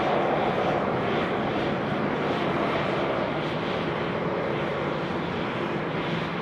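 An airliner rolls out on the runway at Sydney Airport just after touchdown, its engines giving a loud, steady broadband roar that holds evenly throughout with no voices.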